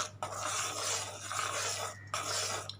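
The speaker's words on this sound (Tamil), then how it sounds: "இது நல்லா கைவிடாமல் மிக்ஸ் பண்ணிகிட்டே இருக்கணும்" A spoon stirs a sweet Nagore dum root mixture in a pan on a low stove flame, making a continuous close rasping scrape. It pauses briefly twice and then resumes.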